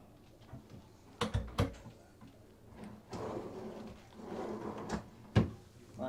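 Bathroom drawers in a 2023 New Horizons Majestic M42RK3S fifth-wheel RV are opened and shut, giving several sharp wooden knocks and short sliding rumbles spread irregularly across six seconds, close and moderately quiet with no talking.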